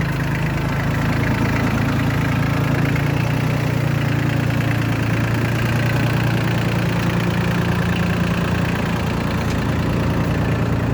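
A Solis 26 tractor's Mitsubishi diesel engine idles steadily with a low, throbbing rumble and faint knocking, continuous and close throughout with no voices.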